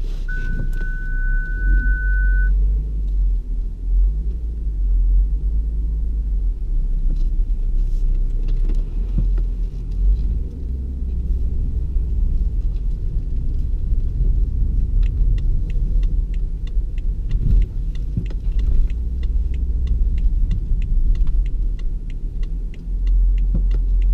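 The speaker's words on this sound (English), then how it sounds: "2014 BMW X5 xDrive35i. I'm going to drive from where I am right now" A 2014 BMW X5 xDrive35i on the road between city districts, heard from inside as a steady low engine and road rumble with faint clicks and no talk.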